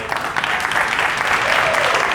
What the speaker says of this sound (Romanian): aș vrea să aud un rând de aplauze pentru voi.